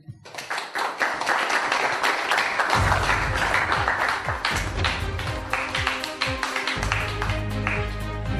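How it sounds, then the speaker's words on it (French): An audience at a home-automation talk night applauds a company director: clapping starts thin, quickly swells into a dense, lively burst of hand claps, and runs on steadily over a low sustained hum. "que je vous invite à applaudir"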